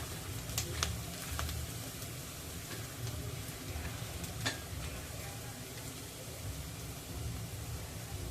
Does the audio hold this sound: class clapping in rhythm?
no